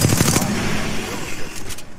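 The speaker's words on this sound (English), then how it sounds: "I know, I'm shooting at them." Rapid automatic gunfire from the Apex Legends video game rattles in a quick, loud burst at the very start, then gives way to a noisy wash of game ambience.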